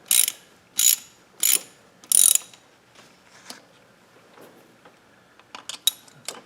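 Ratchet snugging intake manifold bolts on a 3900 LZ9 engine during a head gasket job, four loud crisp bursts of clicking at a steady rhythm, followed by quieter scattered clicks and taps nearby.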